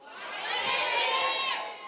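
A church congregation at a worship service shouts "glory to God" loudly together, a brief swelling roar of many voices that rises, holds and fades over about two seconds.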